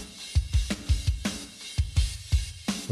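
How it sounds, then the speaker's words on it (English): Punchy drum beat with kicks and snares pulsing in a steady rhythm, reverb on a parallel pumping bus trailing each hit into a reverberant wash that swells between beats. "Another idea is to add a reverb to this parallel pumping bus"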